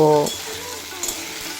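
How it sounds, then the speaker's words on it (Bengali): Flat beans sizzle and fry in a pan with salt and turmeric, a steady close hiss after a brief clatter of stirring at the start. "স্বাদ মতো লবণ আর পরিমাণ মতো হলুদের গুঁড়ো দিয়ে খুব ভালোভাবে ভেজে নেব"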